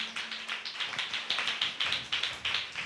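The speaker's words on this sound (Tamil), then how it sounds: "நல்ல கைத்தட்டி ஆண்டவருக்கு நன்றி சொல்லுவீங்களா?" A church congregation claps their hands together in thanks to God, a brisk, steady run of loud overlapping claps throughout with no voices.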